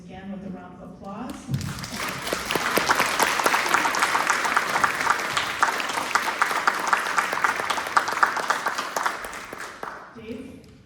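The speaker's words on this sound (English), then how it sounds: "I just want to thank the panelists again with a round of applause." Audience at an immigration panel discussion applauding the panelists, a brief voice at the start followed by sustained dense clapping that swells and then fades out, with a short bit of talk as it ends.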